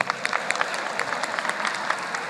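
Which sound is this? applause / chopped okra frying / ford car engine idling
applause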